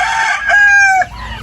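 Backyard chickens crowing and clucking at feeding time on an island: a loud, close, drawn-out rooster-like call lasting about a second, heard alone.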